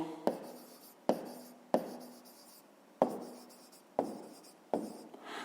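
A pen writes a math solution by hand on paper, a series of six close, distinct scratchy strokes that each start sharply and then trail off, with short pauses between them and no talk.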